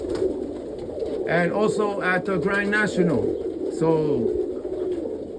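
Roller pigeons coo softly in a loft in the background while someone talks over them, his voice close and steady throughout.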